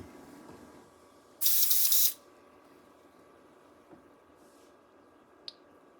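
A spray gun lays down a medium coat of chrome paint at 15 to 20 psi in one loud, steady hissing burst of under a second. Quiet room tone follows, broken by a couple of faint small clicks.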